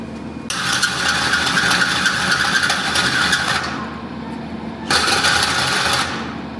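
Pontiac GTO with new headers starting and revving, a loud broadband exhaust roar holding for about three seconds, dropping to a rumbling idle, then a second sharp rev near the end.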